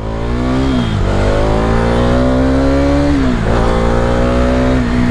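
A 2020 Bajaj Dominar 250 motorcycle, weighing 180 kg, pulls away on a first ride, its engine loud and close as it revs up through rising gear changes with brief dips between shifts.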